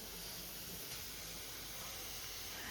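Tempering spices (chili, onion and garlic) sizzle steadily in hot oil, a constant close, bright hiss that holds evenly throughout.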